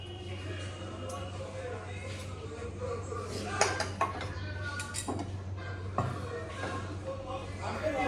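Spoon clinking against a dish while serving home-cooked food, a few light metallic taps and scrapes scattered over a steady low hum, with a voice talking quietly in the background.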